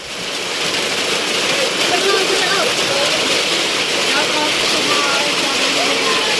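Steady, dense rain hisses throughout, with faint voices murmuring beneath it.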